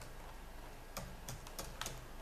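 Quiet typing on a computer keyboard, five or six distinct key clicks in an uneven rhythm, close and faint against a soft steady background hum.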